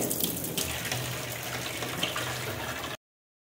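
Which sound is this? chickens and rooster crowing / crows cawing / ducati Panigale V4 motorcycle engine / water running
water running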